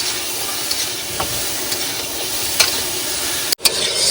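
Marinated tiger prawns fry in hot oil, a loud, close, continuous sizzle with faint spatters and stir scrapes, briefly cutting out near the end.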